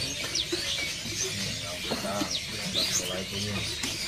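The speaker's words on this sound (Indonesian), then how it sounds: "Ini ada burung opior paru tebal." Thick-billed white-eyes chirp in quick high twitters over a loud, crowded bird market background with voices talking nearby.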